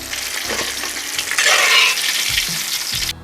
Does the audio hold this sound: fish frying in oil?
yes